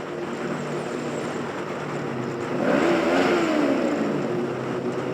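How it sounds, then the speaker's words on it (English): A torquey engine held at high RPM drones steadily, then swells louder for a couple of seconds midway before easing back, with no voices. "my engine's already at high RPMs. At high RPMs, my engine doesn't sound that great."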